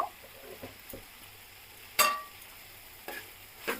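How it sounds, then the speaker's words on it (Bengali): Vegetarian pea curry with spices stirred in a pan, producing a quiet, low sizzle under a few soft scrapes and sharper utensil clinks against the pan. "ভালো করে আবার মশলার সাথে মিশিয়ে দিতে হবে"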